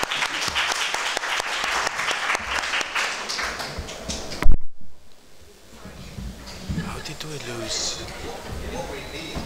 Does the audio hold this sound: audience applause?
yes